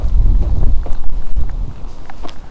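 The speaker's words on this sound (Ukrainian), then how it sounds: "Такий сильний вітер, що все в комиш позалітало" Strong wind buffets the microphone in heavy, rumbling gusts on a frozen river oxbow during winter ice fishing, loud and close, with a few faint knocks underneath.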